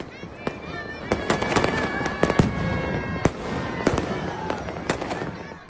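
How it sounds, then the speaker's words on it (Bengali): Firecrackers and fireworks burst across Dhaka at New Year midnight, a dense continuous crackle with many sharp bangs scattered throughout, loud and surrounding, with a voice speaking over the noise. "নগরীর বিভিন্ন এলাকা কেঁপে ওঠে পটকার আওয়াজে"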